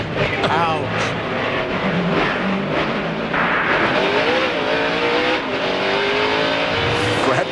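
Onboard a NASCAR race car at speed during the 2004 Sylvania 300, the engine roars loudly and continuously with rising and falling pitch as gears change, while commentators talk over it.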